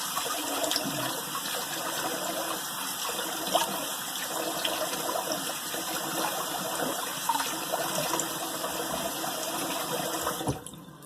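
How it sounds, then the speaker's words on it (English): Tap water runs steadily into a basin for a cold rinse after shaving, a continuous close splashing rush that holds level for about ten seconds before cutting off near the end. "let me do my cold water rinse and I'll be right back"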